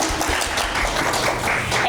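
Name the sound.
audience applause for a panelist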